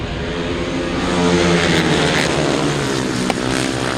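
Several grasstrack racing motorcycles roar together down the first straight at a 2003 meet, a loud, sustained engine drone rising in pitch as they accelerate, with no talk over it.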